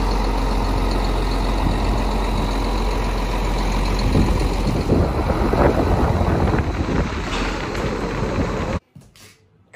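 Farm tractor engine droning loud and close as it drives into a shed on a rainy day, with steady rumble and wind buffeting before the sound cuts off abruptly near the end.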